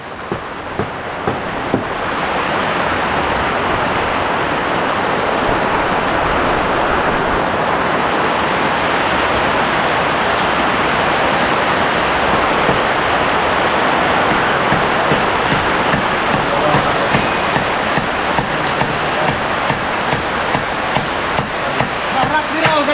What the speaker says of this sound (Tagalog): Ulan, hinto ka na ulan.